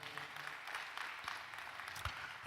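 An audience at a summit event claps together steadily throughout, a dense, even patter of many hands in a large room with no one speaking.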